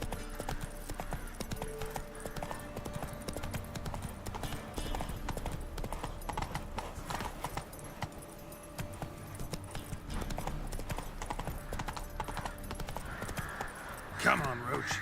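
Roach, the horse in the video game The Witcher 3, gallops steadily with rapid, evenly repeating hoofbeats, close and fairly loud over a dense game ambience, and a short rising call rises briefly near the end.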